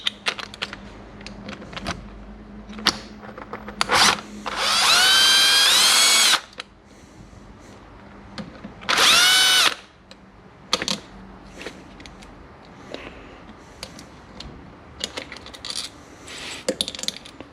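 A power tool whirs in two loud bursts of about two and one seconds, removing a bolt from an Aprilia RS 125 Rotax 122 engine, with scattered metallic clicks and parts clattering before, between and after.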